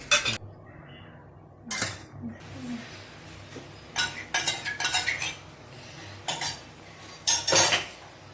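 Eggs being beaten for an omelette in a metal bowl, with bursts of rapid clinking and whisking strokes separated by short pauses, close and fairly loud.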